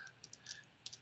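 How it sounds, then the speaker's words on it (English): Quick computer keyboard keystrokes during data entry in security access software, a few light, scattered clicks in a short quiet burst with no talk. "if my typing skills are up to par today"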